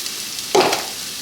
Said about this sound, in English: 2 tablespoons of butter is melting, so we're gonna add our apples into it